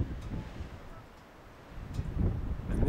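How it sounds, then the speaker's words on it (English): Wind buffets a microphone in low rumbling gusts high up on Bishop's Castle, Colorado, easing off briefly in the middle before picking up again, with no talking. "Nice and windy."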